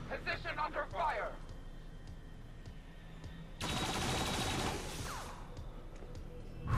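Bursts of rapid gunfire from XCOM 2 tactical combat, a short rattling volley followed a few seconds later by a longer, louder sustained barrage under steady game noise, with no one talking over it.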